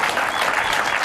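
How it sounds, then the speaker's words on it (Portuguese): Studio audience applauding on a Portuguese late-night talk show, a steady dense wash of clapping that fills the whole short moment without a break. "Palmas"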